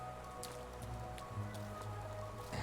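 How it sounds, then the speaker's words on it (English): Rain downpour in the video game Hollow Knight, a quiet steady hiss of falling rain with scattered droplet taps over a low ambient drone, with no talking. "what are you doing out in this miserable downpour?"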